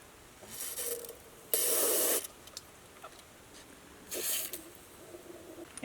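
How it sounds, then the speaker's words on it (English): Three short hissing bursts of aerosol fogging oil sprayed into a small engine's cylinder, the middle one longest and loudest, separated by quiet with faint mechanical clicks. "so we're just going to spray a little bit of the fogging oil into the cylinder"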